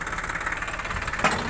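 A parked tractor's engine idles with a steady, moderately loud mechanical throb and no talk over it, then a short louder knock or clatter near the end.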